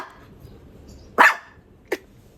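A dog barks twice outdoors, one loud close bark followed by a shorter, quieter one after a pause.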